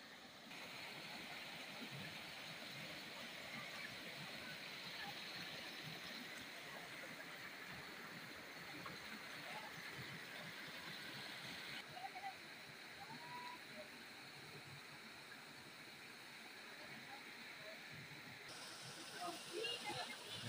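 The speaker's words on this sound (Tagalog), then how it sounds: "Malakas na yung tubig dito sa Puning Cave." Strong water rushes at Puning Cave, a constant broadband roar of flowing water that stays steady throughout, with faint voices in the background.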